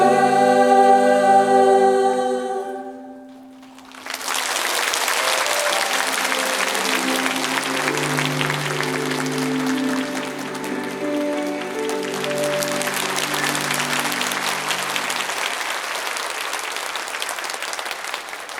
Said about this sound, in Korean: 우리 다시 한번 경의의 박수 부탁드리겠습니다